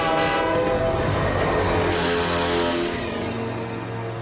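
Horn of the Slugterranean Express, an animated train, blares loud and sustained over rumbling rail noise, its tone sliding slightly as it passes.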